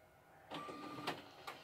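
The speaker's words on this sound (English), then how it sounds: "it sent it to the printer" Large format printer starting a print job from a scan, with a rising mechanical hum, a steady whining tone and a couple of sharp clicks or clunks, close and moderately loud with no talk.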